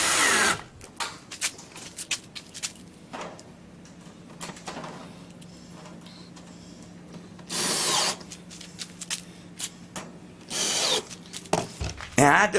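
A power drill drives a screw into the reflector of an outdoor TV antenna kit, with short loud whirring bursts between quieter handling noise and a faint steady hum.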